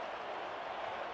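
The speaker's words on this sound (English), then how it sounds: "And the crowd again, listen to the chants." A football stadium crowd roars in a dense, even wash of noise, with chanting and applause blending into a steady distant din.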